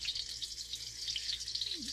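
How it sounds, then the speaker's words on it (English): A gafftopsail catfish fillet frying in hot grease gives a steady, fairly soft hiss and crackle throughout, with a low background hum. "It's always a good sizzling sound you gotta listen for. Want that grease nice and hot."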